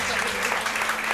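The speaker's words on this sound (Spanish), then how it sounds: "un aplauso, por favor" An audience applauds at a flamenco-themed talk about lunares, a brief stretch of dense clapping with a steady low hum beneath and some voice mixed in.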